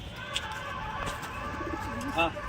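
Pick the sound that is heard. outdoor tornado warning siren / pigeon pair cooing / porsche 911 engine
pigeon pair cooing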